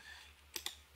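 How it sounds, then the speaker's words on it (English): Two quick, faint computer keyboard key clicks sound a moment apart over a low steady hum, recorded close but very quiet, with no talking. "And we can, again, start typing in words."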